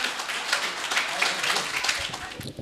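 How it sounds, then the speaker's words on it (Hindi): A crowd at a poetry gathering in Bareilly claps steadily, a dense patter of applause that holds without pause from start to finish. "एक बार जोरदार तालियों से स्वागत कीजिए"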